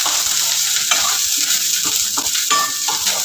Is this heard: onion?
yes